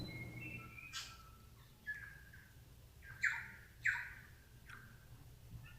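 Forest birds in Tasman, New Zealand, make scattered calls, a few brief chirps and sharper downward squawks, over a quiet, low background with no talking.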